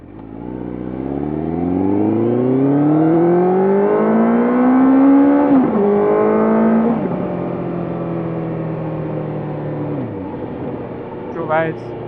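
A motorcycle engine and exhaust rev up steadily while riding, pitch climbing through the gears with a brief shift dip, then settling into a steady drone and easing off, loud and close.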